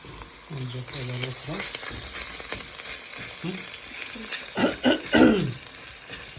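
Chicken sizzles and crackles in a hot pan with fried onions while it is stirred, with a voice speaking briefly over the frying.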